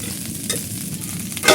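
Rice is stirred and fried in a pan with a steady hiss of sizzling and a few scraping stirs, the last one louder.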